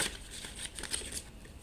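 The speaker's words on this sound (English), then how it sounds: "Why are these cards giving so much trouble to shuffle?" A deck of tarot cards being shuffled, quick soft riffling and flicking bursts in close, quiet succession with no talk.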